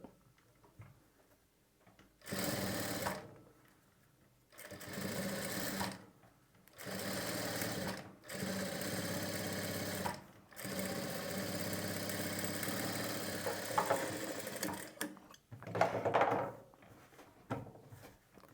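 A sewing machine stitches piping in bursts of steady mechanical whirring, each run lasting a few seconds, separated by short pauses, close by with no talking.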